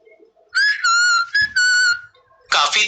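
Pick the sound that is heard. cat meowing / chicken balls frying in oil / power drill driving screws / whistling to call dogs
whistling to call dogs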